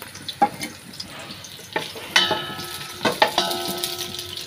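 Whole bay leaves, cardamom pods and cinnamon sticks sizzle in hot oil in a frying pan alongside meat, with scattered crackles and sharp spits over a soft, steady hiss, plus occasional clinks of a utensil.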